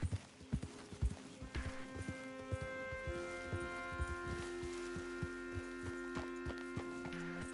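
Horse hooves in Red Dead Redemption 2 clip-clop at a steady walking rhythm, the beats crisp and even over a low hum and faint tonal music in the background.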